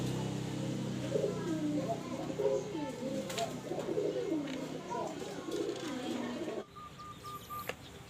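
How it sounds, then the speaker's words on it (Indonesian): A zebra dove (perkutut) chick gives a run of soft, repeated coos close by over a steady background hum, then a short quieter stretch with a thin whistle-like tone. "anakan perkutut ini"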